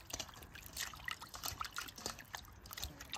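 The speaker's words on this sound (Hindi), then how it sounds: "चिकन टा गोटे बढ़िया से धोई दबा" Raw chicken legs rinsed under water, a soft, close trickle with irregular drips and splashes running steadily throughout, no one talking.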